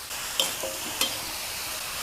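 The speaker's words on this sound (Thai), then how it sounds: "บอกแล้วค่ะผัดกระทะใหญ่นะคะ วันนี้ผัดกระทะใหญ่จ้า ผัดผักให้แค่ผักยุบนะคะ" Vegetables sizzle steadily in a hot, large wok, briefly stir-fried for a Thai rice-noodle dish, with a couple of sharp metallic scrapes of a spatula against the pan.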